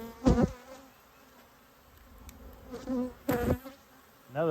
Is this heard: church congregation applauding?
no